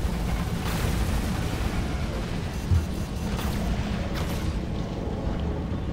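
Gunfire in the PC video game War Robots: a dense, continuous rumble of heavy weapon blasts with no clear gaps, fairly loud throughout.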